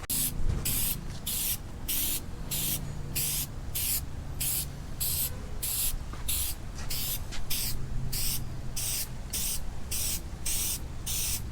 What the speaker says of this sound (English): So we're just gonna lay it on here